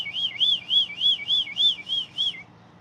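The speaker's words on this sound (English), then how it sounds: "I'll get my boss with this whistle." A shrill whistle blown in eight quick, evenly spaced warbling bursts, loud and close, with no talking.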